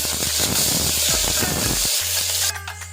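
Onions, curry leaves and green chillies sizzle loudly in hot oil, a steady crackling hiss with a few stirring knocks, turning brighter and spattery toward the end.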